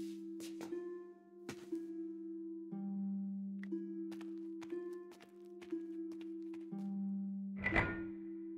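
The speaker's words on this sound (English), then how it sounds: "I gave the statue another shove." Repeated dull thunks and scraping knocks of a stone statue being shoved in the video game Broken Sword 5: The Serpent's Curse, over a steady low hum, ending with a louder grinding clunk.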